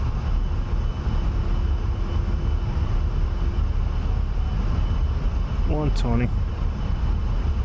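An A-10A jet in DCS World rolls down the runway on takeoff, a steady loud engine roar with rumble throughout while someone talks over it and a short tonal cockpit sound rises near the end.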